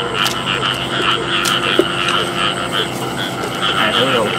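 Frogs croak in a steady, loud chorus outdoors near water, with repeated pulsing calls continuing throughout and no talk over them.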